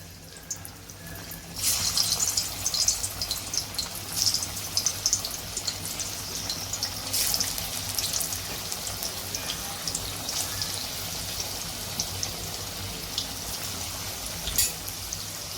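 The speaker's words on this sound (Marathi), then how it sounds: "आता मी इकडे कढईमध्ये तेल तापत ठेवलेलं आहे तेल आपण तापलेलं आहे आता मी ह्याच्यामध्ये वड्या तळून घेते" Taro leaf rolls (alu vadi) dropped into hot oil in a kadhai, a sudden burst of bubbling sizzle that settles into a steady, close frying hiss.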